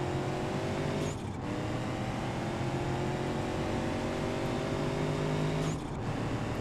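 Steady car engine drone with layered harmonic tones from a modded car fitted with a six-speed gearbox in BeamNG, driven gently at an even pace, with slight dips near one and six seconds, no talking.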